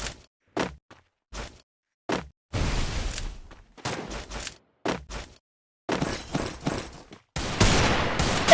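Gunfire in the Free Fire video game rings out as sharp single shots followed by dense rapid bursts, loud and close, separated by short silences.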